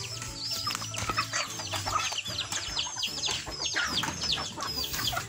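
Free-range chickens, some tied up, cluck and chirp in a busy overlapping chorus close by, with short calls tumbling over one another for the whole stretch.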